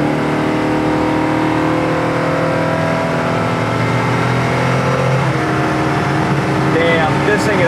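A 1970 Chevelle SS with a 502 hp engine pulls away from a stop, its loud, close engine drone rising steadily in pitch as it accelerates, heard from inside the car.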